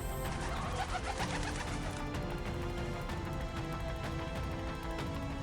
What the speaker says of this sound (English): Whittlesey turned to carrier pigeons